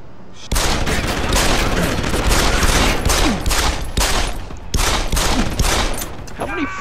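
Sustained gunfire in Deus Ex: Human Revolution, loud rapid bursts of shots with short breaks between volleys and a few faint voice sounds in the mix.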